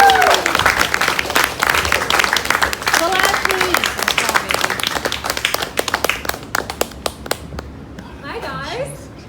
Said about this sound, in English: round of applause, Ashley Perna.